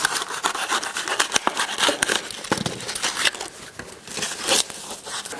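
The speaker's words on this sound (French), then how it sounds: "je découpe la sous-couche pour qu'elle suive le mieux possible le mur" Foam underlay for floating engineered parquet is cut along a wall, producing close rustling, crinkling and rubbing scrapes in uneven bursts.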